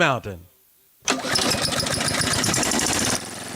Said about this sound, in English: I hear it every time my new Toro Z-Master 4000 Zero Turn starts up